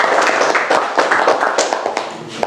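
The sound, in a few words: applause for group 1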